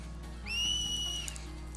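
A whistle cheering on Blitz players in Final Fantasy X: a clear, high, slightly falling tone that rises in about half a second, holds for under a second and fades, alone over a low hum.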